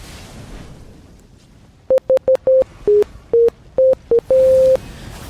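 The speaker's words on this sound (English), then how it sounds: "That was the sound of another game starting." The starting sound of the Final Fantasy XIV video game is a short electronic melody of clean beeping tones at varying pitches, ending on a longer held note, heard clearly over a quiet background.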